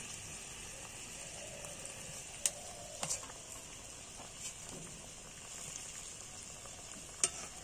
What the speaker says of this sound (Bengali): আস্তে আস্তে ফুটে উঠেছে তরকারিটা